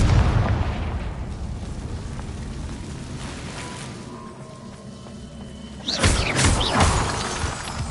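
A Confringo spell explosion in Hogwarts Legacy bursts loudly near the end, over a steady wash of ambient game sound.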